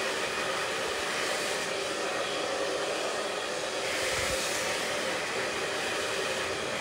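A hair dryer runs on high heat with low airflow while styling hair with a round brush, giving a steady, even whooshing hiss throughout, with a couple of faint low bumps from handling and no voices.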